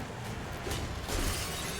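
Glass shatters in Poppy Playtime Chapter 5 as a dense, noisy crash amid steady background noise, with a brief burst of breaking debris midway.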